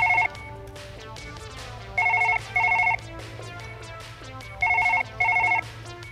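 A telephone rings in the game Surgeon Simulator, repeated double bursts of a trilling electronic bell separated by pauses, over a low steady hum and quiet background tones.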